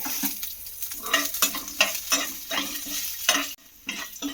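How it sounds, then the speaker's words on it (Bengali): Green chillies frying in hot tempering oil while a spoon scrapes and stirs the pan, steady sizzling punctuated by rhythmic metallic stirring strokes, close and clear with no talking. "সুন্দরভাবে ফোড়নটা কিন্তু ভাজা হয়ে গেছে"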